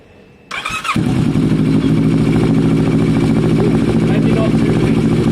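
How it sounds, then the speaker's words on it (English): A Kawasaki ER-6f motorcycle engine starts after an oil change and settles into a steady, loud, close idle that runs without a break for the rest of the clip. "All right, so just idle it for 2 minutes."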